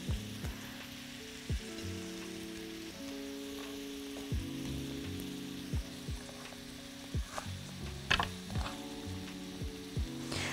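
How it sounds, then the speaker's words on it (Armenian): Onion sizzles softly in a pan while frying, a faint steady crackle under some low mechanical clicking and tonal hum. "այսպես կսպասենք մինչ մեր սոխը կտապակվի"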